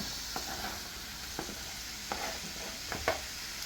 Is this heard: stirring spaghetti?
yes